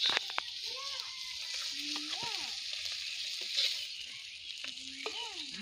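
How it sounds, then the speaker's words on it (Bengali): A large silver carp fries lightly in a village kitchen, producing a continuous hissing sizzle, with faint voices and small clatters underneath. "আজকে মাছ ভাইজা নিতে আসছে।"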